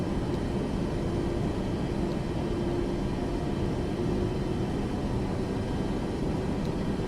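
Jet aircraft engines in Microsoft Flight Simulator 2024 hold a steady, dense rumbling roar as they spool up for taxiing, loud and continuous throughout with no talking.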